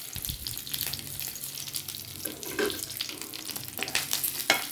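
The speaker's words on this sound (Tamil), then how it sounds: "இப்போ வடைச்சட்டியில் எண்ணெய் காஞ்சோன்னா கொஞ்சம் பச்சை மிளகாய்" Green chillies frying in hot oil in a wok, a loud bright sizzle with bursts of crackle and a few stirring scrapes, continuous and close without any talk.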